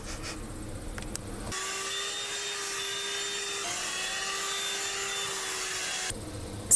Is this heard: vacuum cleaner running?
yes